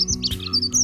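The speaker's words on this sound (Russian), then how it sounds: "Каких только птиц нету весной." Small birds chirp and tweet in spring around a village in Omsk region, a run of bright, rapid calls close to the listener with no voices.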